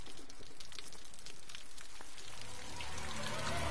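Rain falls steadily as a soft, hissing patter in the Call of Cthulhu game, heard fairly faint and continuous throughout with no break.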